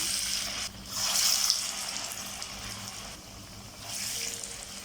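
Green gram dal vadas, flattened thin, sizzle as they go into hot oil in a pan, making a bright, hissing crackle that swells and fades in bursts close by.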